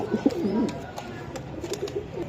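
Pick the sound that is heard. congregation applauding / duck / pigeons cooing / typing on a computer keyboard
pigeons cooing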